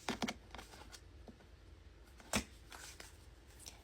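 Cards being shuffled during a card reading, heard as soft, close riffles and flicks with a sharper snap partway through, quiet and with no talking.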